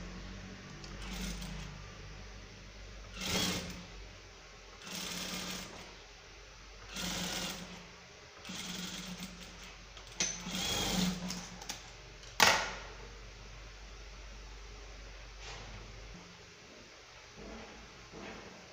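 A sewing machine stitches a trouser leg in bursts of rapid mechanical whirring, several separate runs with brief pauses between, close and fairly quiet, with a few sharp clicks and no talking.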